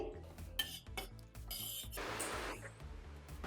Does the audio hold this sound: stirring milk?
yes